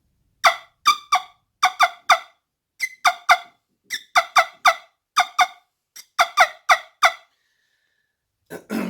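A wingbone turkey call being practiced, producing sharp, squeaky yelps in quick clusters of two to four, repeated steadily at close range with short pauses between bursts, and no talking.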